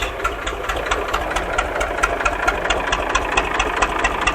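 An Ursus C360 3P tractor engine runs in freezing cold after starting, a steady, uneven knocking idle with rapid mechanical pulses, heard close and loud.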